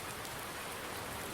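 Steady rain pours down in Farming Simulator 19, a dense, even hiss of falling drops with no breaks, fairly soft and heard on its own without talk.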